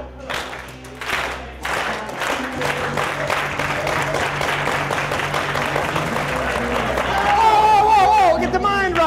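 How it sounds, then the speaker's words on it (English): A student audience claps a slow clap in a steady, deliberate rhythm that builds into broader applause, with crowd noise and a voice underneath. "Slow clap."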